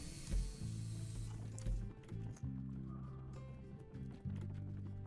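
Horses in the video game Depraved: steady mechanical clip-clop and ratcheting hoof and tack sounds, with a few heavy thuds, moderately loud over a continuous tonal game background; no talking.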